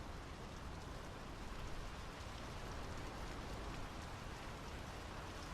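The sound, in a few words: rain falling in the video game Draugen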